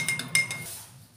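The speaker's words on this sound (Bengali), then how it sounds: "এবার চামচ দিয়ে ভালো করে" Metal spoon clinking against a glass while stirring sugar into raw mango sherbet, a few quick bright taps close by, then fading into quiet.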